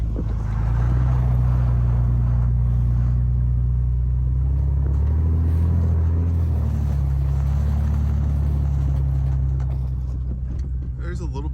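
A lifted Jeep WJ on 37-inch tires rolls down a bumpy, rutted dirt road, its engine and drivetrain making a loud, steady low rumble with jolts and rattles from the rough surface, while people talk over it.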